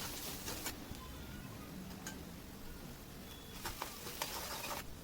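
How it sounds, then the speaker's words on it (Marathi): Chopped green chilies and onion frying in hot oil, a steady sizzle with continuous close crackle, occasional louder pops and stirring taps. "कापलेल्या मिरच्या आणि कांदा टाकून याला चांगला ब्राऊन कलर येईस्तोर परतून"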